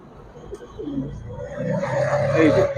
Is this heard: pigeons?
yes